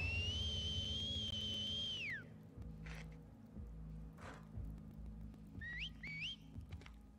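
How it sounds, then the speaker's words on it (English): Enemy whistle signals in The Last of Us Part II: one long steady whistle lasting about two seconds that drops off at the end, then two short rising whistles near the end, all over a low game rumble and a few thuds. "Thank God there's no other whistles."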